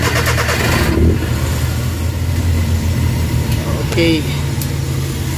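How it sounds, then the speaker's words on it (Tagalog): A Suzuki K6A car engine cranks and catches, then settles into a steady low idle rumble close by, with someone speaking briefly over it. "Okay, start natin makina"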